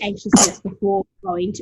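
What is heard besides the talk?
sneeze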